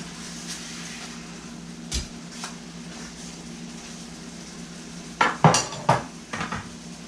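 Steaks turned over in a pan of thickening bourbon sauce, a few sharp metallic clatters and scrapes of utensils against the pan near the end over a steady low kitchen hum, with no talking.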